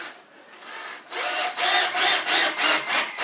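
A power drill drives screws into the wood of a chicken coop under construction. The motor whirs in a rapid series of short, loud bursts close by, with no talk.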